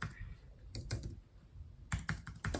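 Fingers type on a computer keyboard in quick clusters of clicks separated by short pauses, close and fairly quiet, with faint talk in the background.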